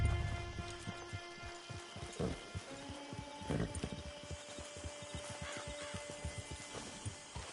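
Horse hooves clip-clopping at a steady trotting rhythm in the video game Red Dead Redemption Online, close and continuous, with a low hum and faint ambience underneath.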